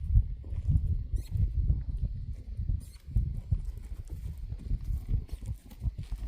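Horse hooves clop along in a steady walking rhythm, close by, with low rumbling noise in the background.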